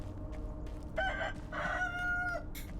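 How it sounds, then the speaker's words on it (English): A rooster in the game Sekiro: Shadows Die Twice crows twice in quick succession, a clear, moderately close cock-a-doodle-doo over a low rumbling game ambience, with no talking. "Damn it, the rooster's following me."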